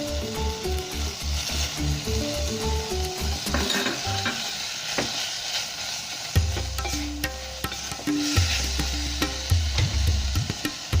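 Garlic ginger paste and turmeric powder sizzle steadily in hot oil in a pan, with stirring scrapes and clinks throughout, close and fairly loud, no talking.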